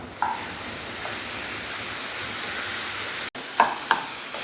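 Banana sautéing and being smashed in a pan, a steady sizzle of frying with a few sharp scraping stirs and pokes standing out near the start and end.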